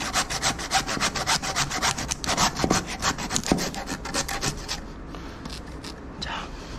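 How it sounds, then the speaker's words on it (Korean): A hand saw cuts through the bone of a pork foreleg during butchery, giving a fast run of rasping back-and-forth strokes that is loud and close. The strokes slow and thin out toward the end as the bone is nearly through. "자, 톱질을 할 경우에는 끝쪽에 끊어질 때쯤이 되면은 약간의 느낌이 옵니다. 그 느낌이 올 때까지 톱질을 합니다."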